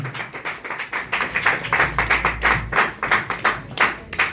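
A church congregation claps along in steady rhythm, a loud, continuous run of sharp, closely spaced claps from many hands filling the room, with no speech over it.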